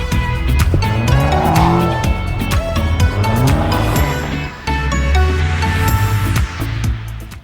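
A car skids and squeals its tires with traction control switched off, the engine revving loudly throughout as rubber screeches on and off in close, sustained bursts.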